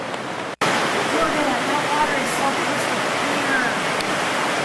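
Water in Meramec Caverns, a limestone cave: a continuous, loud rushing wash like a waterfall or stream, beginning after a brief cut and holding steady throughout.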